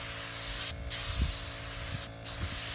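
Spray gun applying paint to a Box Chevy car body, a loud continuous hissing spray broken by two brief pauses, with faint low knocks underneath and no talking.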